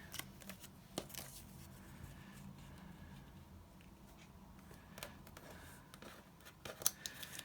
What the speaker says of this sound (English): And I'm going to cut it in half so that it will protrude out further.